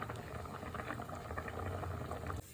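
Ada pasta boils in a pot of water for payasam, a steady, moderately quiet bubbling and simmering that runs throughout and drops off abruptly near the end.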